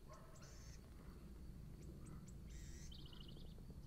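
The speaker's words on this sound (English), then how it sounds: "Hear the birds singing?" Faint birds chirping and trilling in short bursts outdoors, several calls scattered over a quiet background hum.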